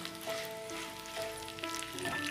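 Dried red chillies sauté in oil in a pan for tamarind rice, giving a quiet, steady sizzle with soft crackles and faint scraping, close and low in level.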